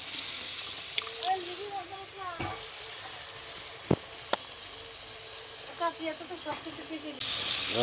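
A little water added to prawn curry in a hot pan: a steady background sizzle with bursts of bubbling and crackle, punctuated by a few sharp utensil taps, while a voice speaks intermittently over it.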